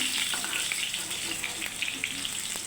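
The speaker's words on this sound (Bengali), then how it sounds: "এখানে ফিশ ফ্রাই হচ্ছে" Fish pieces frying in a pan for a Bengali fish curry, a steady close crackle and sizzle of hot oil with faint scattered pops, continuous throughout with no talk.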